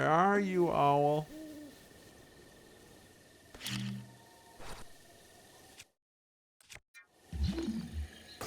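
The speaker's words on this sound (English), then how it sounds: "There's owl noises, but there are not actually owls in the game." Owl-like hoots and coos sound from a mining video game, a few soft calls spaced apart with a rise near the start and end, and a voice speaking briefly at the very beginning.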